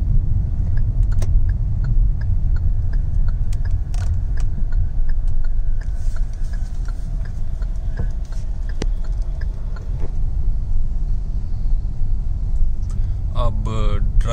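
Inside a Kia Seltos HTX with an IVT automatic transmission, a low steady cabin rumble carries on while it drives, with scattered faint clicks and a voice speaking near the end.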